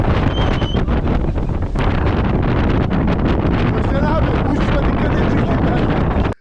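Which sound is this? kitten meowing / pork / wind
wind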